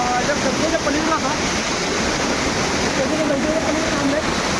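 A steady, full roar of falling water comes from a Konkan waterfall nearby. Faint voices murmur now and then beneath the continuous rush.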